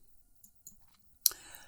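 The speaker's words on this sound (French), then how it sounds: "si je clique sur le bouton gauche de ma souris" A computer mouse button clicked a few times, faint soft ticks followed by one sharper, louder click near the end, in a quiet room.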